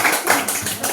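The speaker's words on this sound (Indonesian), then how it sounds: "Tepuk tangan dulu" Children in a classroom teaching session clapping their hands, a quick patter of several claps in about one second, close and fairly loud.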